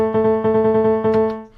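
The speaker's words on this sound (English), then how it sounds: "So here we have a little section where we play actually a full triplet" Quick funk triplet run on a bright harmonic synth tone, a rapid string of evenly spaced pulses over a sustained note that fades at the end, loud, clear and alone.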